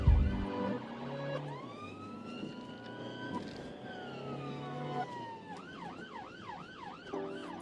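An ambulance siren wails as the vehicle passes, first a long rising tone, then a rapid warbling yelp, moderately loud over traffic noise.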